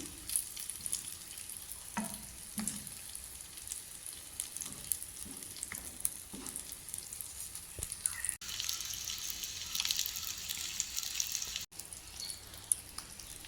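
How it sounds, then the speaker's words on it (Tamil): Eggs frying in hot oil in a pan as they are flipped to cook the other side, a soft steady sizzle with scattered pops, clicks and utensil scrapes, no voices. "இப்போ அடுத்த பக்கம் பொரியுறதுக்கு அதை திருப்பி விட்டு பொரிச்சு எடுத்துக்கொள்வோம்"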